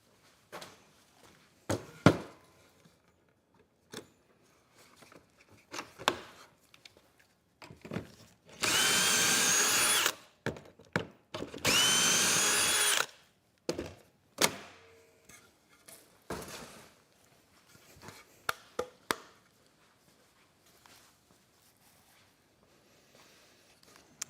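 A power drill driving screws into a bed frame for a Ford Transit van dinette, two sustained whirring runs of a few seconds each, surrounded by sharp clicks, knocks and handling clatter, close by and without talk.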